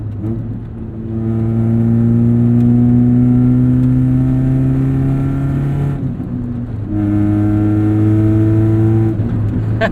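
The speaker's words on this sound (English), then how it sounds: "That exhaust is rowdy." A 1996 Saturn SC2 engine revs hard through a rowdy exhaust, droning loud and close as the pitch climbs steadily, drops off briefly, then surges again.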